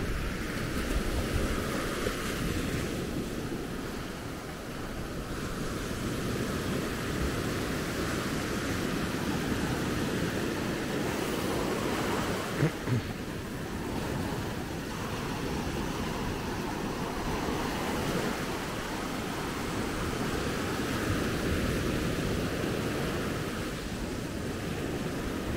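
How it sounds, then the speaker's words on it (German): Ocean surf rolls in at Maspalomas beach on Gran Canaria at sunrise, a steady wash of breaking waves with some wind noise on the microphone, continuous and fairly loud with no talking. "Schaut euch an, wie schön die Wellen jetzt hier reinkommen."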